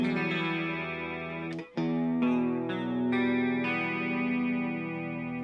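An electric guitar chord rings through a chorus pedal set to full depth, its tone wavering and swirling steadily as a few new chords are struck.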